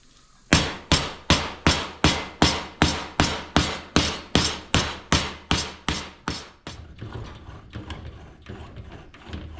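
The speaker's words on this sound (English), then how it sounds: "You can also go ahead and pre-form it with a hammer a little bit if you want" A rapid, even series of about sixteen sharp metallic hammer blows pre-forming a sheet metal panel rings out close by, then gives way to quieter scraping and tapping.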